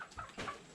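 A chicken clucks a few times at a village house in rural Thailand or Laos, the clucks soft and short against a quiet background.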